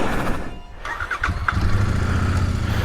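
A Royal Enfield Interceptor 650 motorcycle cranks briefly and catches, then settles into a loud, steady low idle rumble close by.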